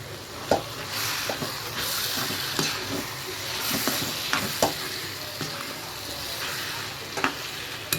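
Steamed, deboned shark fish sautés in a pan for sura puttu, a constant hissing sizzle broken by sharp, irregular spoon scrapes and knocks, fairly close.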